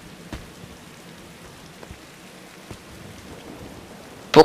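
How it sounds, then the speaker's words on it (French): Soft, steady rain patter in the video game Singularity, with scattered sharp drips and a louder crack near the end. "Pourquoi il pleut toujours"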